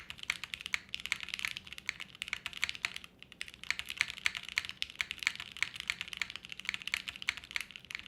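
Steady, brisk typing on a custom mechanical keyboard, dense clicky keystrokes close to the listener in a continuous run with one brief pause, and nobody speaking.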